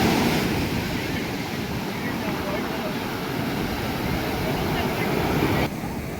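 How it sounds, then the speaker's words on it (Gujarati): Sea waves roll onto the shore at Somnath in a loud, continuous roar of surf mixed with wind buffeting the microphone, steady throughout before dropping slightly at the end. "આ મોજું નો આવી જાય એની બીક"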